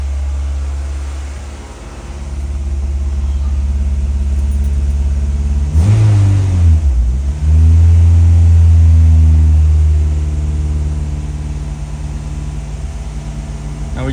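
A Honda B20 VTEC engine on its first start-up, smoking as oil burns off the header, idles high and loud, then revs up sharply around the middle before settling back to a steady elevated idle.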